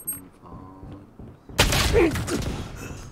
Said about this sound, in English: I turned around the corner for one second and he headshots me straight away